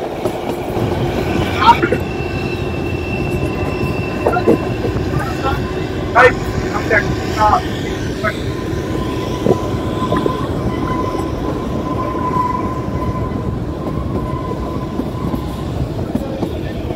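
Kalka–Shimla toy train rolling steadily along the rails, a continuous broad rumble with scattered clicks and squeals throughout, with faint voices in the background.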